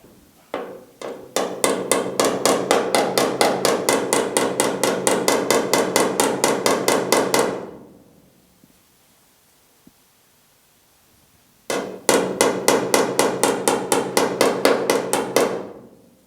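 A hammer strikes a car door on a GTO restomod, setting it into position in a fast, even run of loud, close, ringing metallic blows, then a pause of near silence before a second rapid burst.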